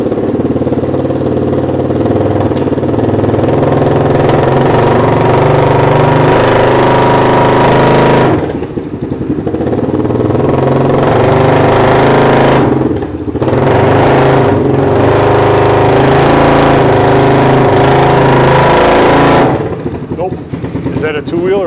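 A loud ATV engine revs steadily with all four wheels spinning, mostly a sustained roar with a few brief dips in throttle, close up.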